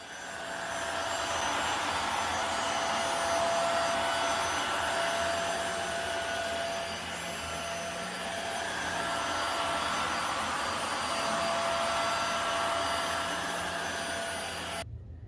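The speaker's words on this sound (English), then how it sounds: "we'll test the vacuum out just to make sure that it's working properly" A Hoover Windtunnel Air Steerable upright vacuum cleaner runs steadily and loudly the whole time, a constant whirring motor drone with a high whine, no voices.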